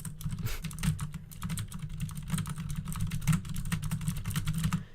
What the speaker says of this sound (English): Just smash your keyboard and press enter.